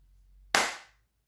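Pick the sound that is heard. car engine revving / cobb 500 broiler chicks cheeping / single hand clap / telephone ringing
single hand clap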